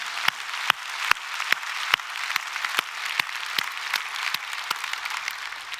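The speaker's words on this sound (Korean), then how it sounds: "영광의 박수로 영광 돌리겠습니다." Congregation applauding during a Korean Sunday church service: steady, dense clapping from a crowd with sharp individual claps standing out at a regular beat throughout.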